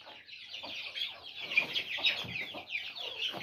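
Chicks and chickens at a small home pet enclosure cluck and peep continuously at close range, a dense chorus of high chirps with no voices over it.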